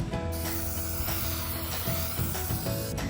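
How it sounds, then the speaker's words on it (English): A Rust-Oleum hammered textured silver spray can coats PVC pipe couplers and elbows, giving a steady, close hiss of spray that runs almost unbroken throughout. "to spray paint, I'm gonna use this Rust-Oleum hammered textured silver can."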